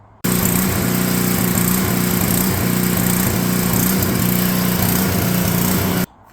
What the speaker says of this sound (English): I'll go ahead and post a clip of it running.